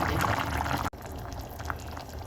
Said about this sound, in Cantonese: 跟住我哋大約加400 ml 水